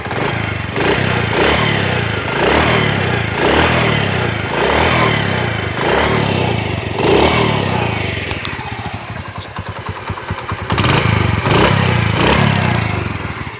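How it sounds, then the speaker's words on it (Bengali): A Honda CD 80 motorcycle engine runs steadily and close by, its loud, even putter carrying a regular pulsing beat throughout, with the tone shifting briefly near the end as the idle changes. "এবার ইঞ্জিনের সাউন্ডটা একটু শোনাই দিই।"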